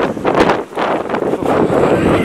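Loud, gusty storm wind buffets the microphone in heavy rumbling surges, briefly easing before roaring again.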